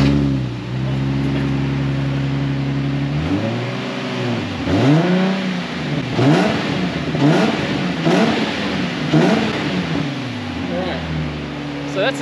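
A car's engine revs repeatedly through its standard stock exhaust, rising and falling blips after a steady idle, close and loud.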